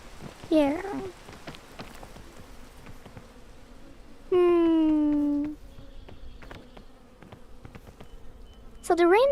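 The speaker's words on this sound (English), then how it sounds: "Wait, I hear bees." Bees buzz in a video game in short sustained bursts, a loud drone swelling in mid-clip and again at the end, over a soft rain patter.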